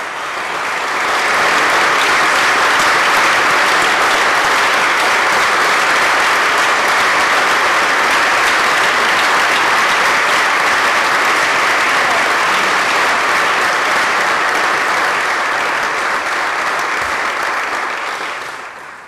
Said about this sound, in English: we should all stand up and give a thunderous round of